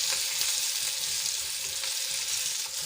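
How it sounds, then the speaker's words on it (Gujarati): Stuffed Kathiyawadi green chillies fry in a pan, a continuous close sizzle with soft scraping and shuffling as they are turned, loud and steady with no speech. "આ રીતે 2 થી 3 વખત બધી બાજુ ફેરવીને આપણે પલટાવશું જેથી કરીને આપણા મરચાં સરસ રીતે ચડી જાય"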